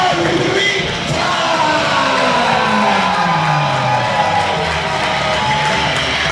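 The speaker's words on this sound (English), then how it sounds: "Nice round of applause" A crowd at a Black Label Pro wrestling event cheers, yells and whoops for wrestler Red Narita, a loud, steady roar of many voices filling the hall throughout.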